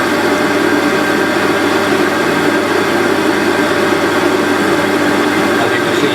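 A WARCO WM180 metal lathe turns steadily while a carbide tool cuts metal, giving a loud continuous whirring drone at close range.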